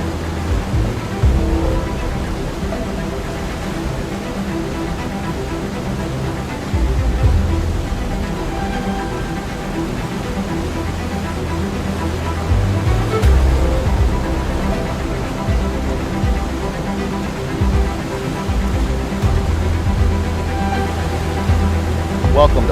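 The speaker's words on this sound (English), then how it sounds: "you've got this gorgeous waterfall right in your backyard" A waterfall in a backyard in Costa Rica gives a constant broad rushing roar of falling water, steady and fairly loud throughout, with low rumbling gusts and faint voices in the background.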